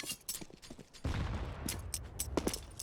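Rapid bursts of pistol gunfire in a Counter-Strike match on Dust 2, sharp cracks clustered at the start and then a dense, sustained volley of overlapping shots, loud and close.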